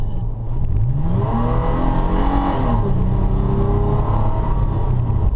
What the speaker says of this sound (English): Let's give it some gas and test out the acceleration